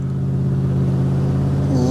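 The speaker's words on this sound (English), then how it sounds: "exhaust leak somewhere. I don't know where, but she's louder than she should be." Loud, close engine rumble from a used police car with an exhaust leak, a rough, deep drone that holds steady and rises slightly at the end as it revs.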